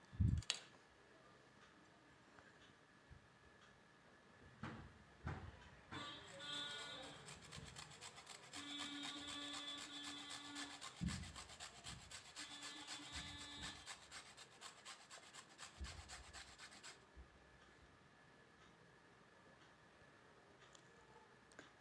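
Carrots, peeled first, rubbed against a hand grater in a home kitchen while making carrot kheer, giving a steady rasping scrape that runs in a continuous stretch after a few knocks, close and fairly quiet with no talking.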